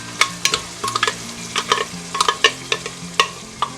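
Onions, salted fish, pepper and garlic frying in a pot, with a quiet steady sizzle beneath repeated scraping and clinking taps of a spoon being stirred at close range.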